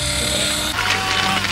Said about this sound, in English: You can turn his little drill.